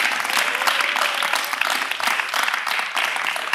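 A television studio audience breaks into dense, continuous applause, many hands clapping at once, loud and close for the whole stretch with no talk over it.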